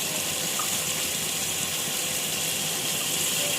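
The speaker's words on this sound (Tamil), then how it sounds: "இதில் இப்போ தண்ணி ஊற்ற போகிறோம்." Water poured into a pressure cooker while making mushroom biryani, a continuous loud splashing gush with no breaks, close and steady throughout.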